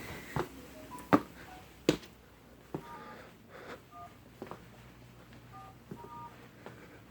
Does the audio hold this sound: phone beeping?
yes